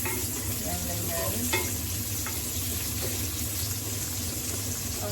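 Onion sizzles and crackles in hot oil in a pan while yakisoba is cooked, a loud continuous hiss close by, with a few clinks and scrapes from a ladle stirring.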